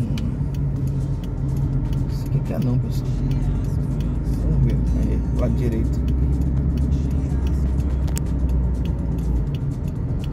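Road traffic on a Rio de Janeiro expressway, where a tow truck hauls a Conlube truck; a steady, close vehicle rumble and engine drone persist under someone talking throughout.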